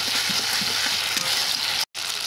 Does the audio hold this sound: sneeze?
no